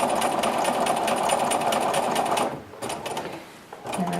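A sewing machine quilts an orange peel design on a marked grid, running fast and close, then pausing briefly and starting again in short bursts near the end.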